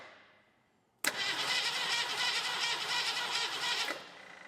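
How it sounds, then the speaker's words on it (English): The starter cranks over a long-abandoned 1969 Ford Mustang engine. The steady, loud, whirring crank runs for about three seconds, then cuts off abruptly, with no voices over it. "as soon as I touch the battery cable to the terminal, it cranks over"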